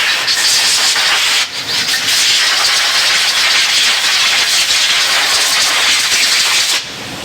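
Compressed air blasting from a nozzle to clean out a powder coating gun lid with its gasket held in place, a loud steady hiss with one brief dip partway through, no talking.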